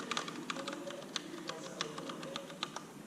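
A Rosewill RK9000V2 mechanical keyboard with Cherry MX Brown switches being typed on, close crisp key clacks in an uneven rhythm, several strikes each second, with no speech over them.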